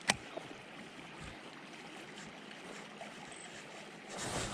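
A trout river flowing along a long horseshoe course, heard as a steady, soft broadband rush of water that stays even throughout, with a brief knock at the start and the flow growing slightly louder near the end.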